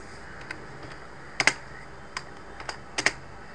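Sparse keyboard typing of Linux terminal commands: a few isolated key clicks and a quick double tap, close and crisp, with quiet pauses between strokes.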